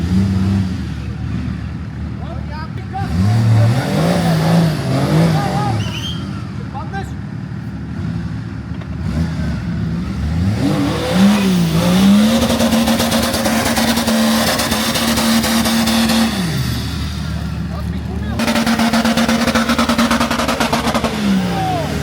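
An off-road car's engine revs hard at full throttle on a muddy Bankya track, its pitch climbing and falling in repeated surges, loud and close, while voices shout over it.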